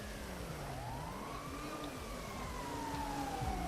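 An ambulance siren in GTA V, its wailing tone sweeping steadily up and down at close range for a few seconds, fairly loud, with traffic and engine noise underneath and no talking.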